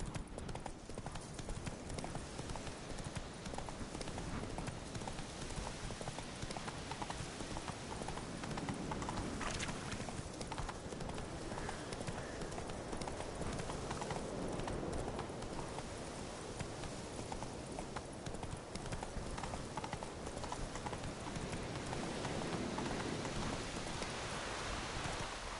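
Roach the horse gallops in The Witcher 3, a quick steady clip-clop of hooves over a constant hiss of rain, moderately loud and continuous with no talk.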